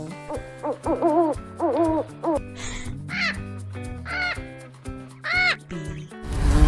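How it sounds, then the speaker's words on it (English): An owl hoots several times over cheerful children's background music in an animal-sounds sequence, each call clear and fairly close. "owl"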